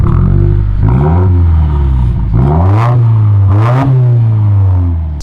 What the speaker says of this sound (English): it sounds awesome. Not too loud or crazy.